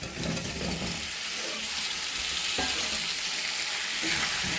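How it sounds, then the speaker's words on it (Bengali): Potatoes fry in spices in a pan while being stirred, giving a constant sizzling hiss broken by scraping stir strokes, close and fairly loud. "আলুটা দিয়ে আমি ভালো করে নেড়ে নেব"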